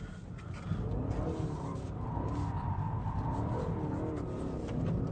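A car engine drones and revs continuously, with a shifting pitch as it pulls hard, steady and fairly loud throughout.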